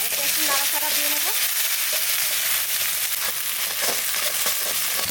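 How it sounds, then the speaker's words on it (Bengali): Ginger and garlic paste frying with browned onions in a pan for a village-style Sonabogo river fish curry, a steady loud sizzle with spatula stirring scrapes running throughout, and no voices. "আদা রসুনটা আগে দিয়ে দিলাম, একটু নাড়াচাড়া দিয়ে নেব।"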